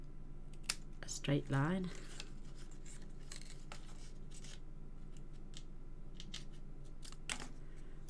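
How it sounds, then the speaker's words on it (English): Scissors snip through washi tape along a straight line in a quiet crafting setting, giving a few faint, crisp cuts scattered across the span, with a short burst of speech partway through. "again I'm just going to snip"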